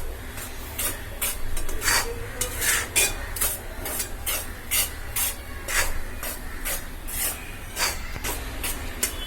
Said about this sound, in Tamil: இப்படி கைவிடாம வறுக்கணும்ப்பா